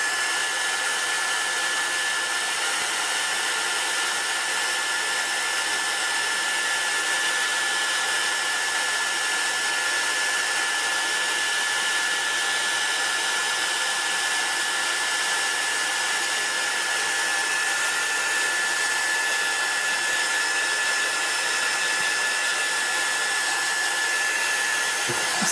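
A heat gun blows steadily on the back side of light molding paste, a loud continuous hissing whoosh of hot air held close and unbroken throughout.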